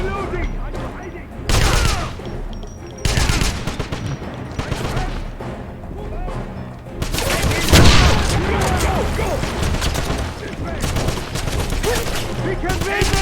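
Gunfire in the 2009 Wolfenstein video game, set at medium difficulty: repeated loud bursts of automatic fire and single shots come in waves, and occasional in-game voices shout under the shooting.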